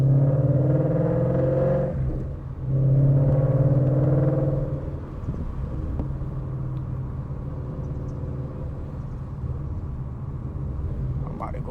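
A loud Ford Mustang GT fitted with headers drives past in a deep throaty rumble that swells, dips briefly, then settles into a steadier low drone, with someone talking over parts of it.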